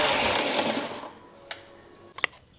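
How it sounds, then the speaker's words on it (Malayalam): Mixer grinder crushing garlic, green chillies and ginger, a loud whirring grind for about a second before cutting off, followed by a couple of short clicks and knocks in near silence. "ഇതൊക്കെ കൂടിയിട്ട് മിക്സിയിൽ നമ്മൾ ചതച്ച് കൊണ്ടുവരും."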